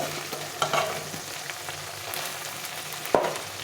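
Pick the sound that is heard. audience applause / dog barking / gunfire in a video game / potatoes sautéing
potatoes sautéing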